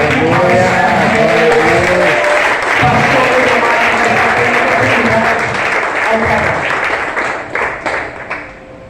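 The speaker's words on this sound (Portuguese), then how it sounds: "E dê um lindo louvor de palmas para o Rei Jesus." A church congregation at an evening service applauds together in a steady, dense wash of clapping mixed with voices and singing, fading out toward the end.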